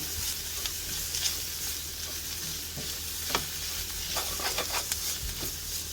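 Masala with crushed kasuri methi stirred and fried in a pan for a Tibetan-style potato stir-fry, a steady sizzle under scattered scraping and clinking of a spoon against the pan, no voices.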